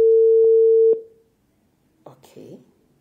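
Steady telephone tone heard while placing a call, a loud continuous hum cut by brief clicks that stops abruptly, followed after a pause by faint distorted line sounds.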